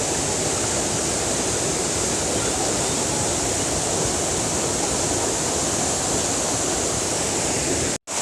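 A waterfall in Oloolua forest, Nairobi, roars with a loud, steady broadband rush of falling water close by. It runs continuously with no voices and cuts off abruptly at the end.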